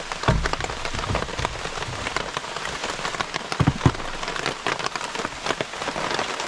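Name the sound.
rain falling on a campsite gazebo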